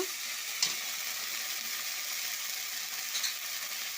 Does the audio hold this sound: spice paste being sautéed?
yes